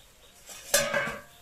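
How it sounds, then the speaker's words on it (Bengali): A metal lid clinks as it is lifted off a cooking pot where greens simmer, one sharp ringing clang with a short metallic ring that fades, heard alone and close by. "ঢাকনাটা খুললাম"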